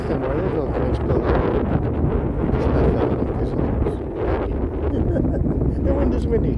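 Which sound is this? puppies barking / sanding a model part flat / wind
wind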